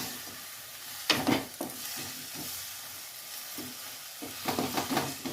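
Drumstick pieces sizzle in hot oil in a pan for a drumstick gravy, with several clattering stirs and scrapes over a steady frying hiss, close and without talk.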